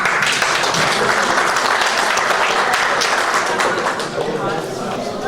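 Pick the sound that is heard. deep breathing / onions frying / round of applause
round of applause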